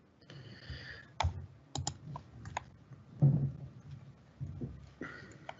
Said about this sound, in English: Should be able to start typing.